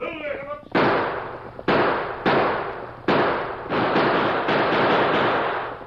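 Gunfire in an old-time western radio drama set in Tombstone: five or six loud close shots spread out at a steady pace, each with a long echoing tail, following a brief stretch of voice.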